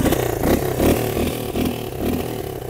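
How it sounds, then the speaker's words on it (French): A 1987 Honda XLR motorcycle engine runs nearby with a pulsing, uneven idle and small revving swells, loud and rough with a little mechanical clatter. "le son de la moto derrière"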